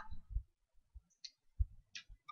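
Sparse keyboard clicks come from code being typed on a computer: scattered quiet keystrokes with irregular gaps, close and dry, with no voice.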